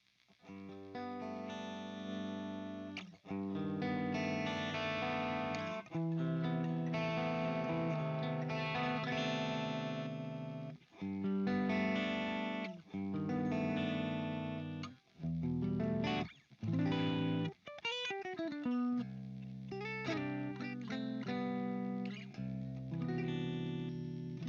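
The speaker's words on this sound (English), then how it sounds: "I can give you a single coil sound." A single-coil electric guitar run through effects plays chords and riffs with a chorus-like shimmer and some grit, strumming in phrases broken by short pauses and finishing with a quicker, busier run before a sustained chord.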